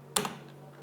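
A single short burst of keystrokes on a computer keyboard while typing code, a crisp cluster of two or three clicks close up in a quiet room.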